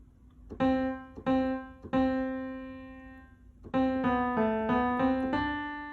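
A piano plays "Heart and Soul" in single notes and chords, three separated strikes followed by a quicker run of ringing notes.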